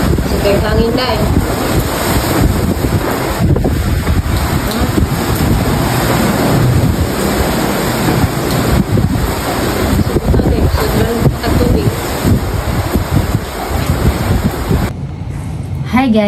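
Strong wind blowing at sea, roaring and buffeting the microphone in loud, continuous gusts with the wash of waves underneath, easing in the last second.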